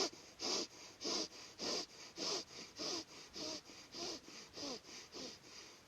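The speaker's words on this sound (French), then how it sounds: "on recommence 12 respirations rapides avec le diaphragme" Rapid diaphragmatic breathing through one nostril, about a dozen short forceful sniffing breaths in an even, steady rhythm, close and clear with no talking.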